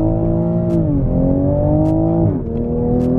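A 2JZ-swapped Lexus revving hard with its exhaust valves open, a loud close engine roar that climbs steadily and drops sharply at quick gear shifts, with no talk over it.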